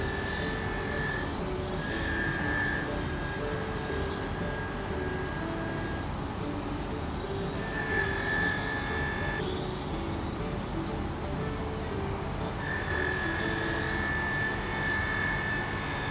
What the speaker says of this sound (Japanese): こちらの方の砥石なんですけど、平回り砥石という砥石になります。